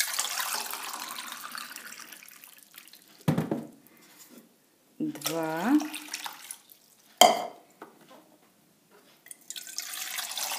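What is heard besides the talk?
pouring water into a pot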